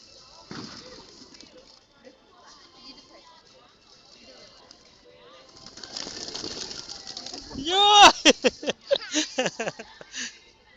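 Pigeons being fed in a city square in Ivano-Frankivsk, with soft coos, then a loud burst of wing flapping as several birds take off. Scattered quieter fluttering follows, and people talk nearby.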